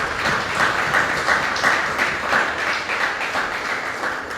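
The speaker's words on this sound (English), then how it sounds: "Let us give ourselves a round of applause." Steady applause from a sizable crowd, many hands clapping continuously at an even, fairly loud level throughout.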